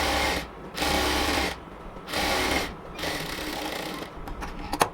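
A sewing machine stitches the side seam of a salwar in three bursts of steady whirring, each run about a second long, separated by short pauses, ending in a few light clicks.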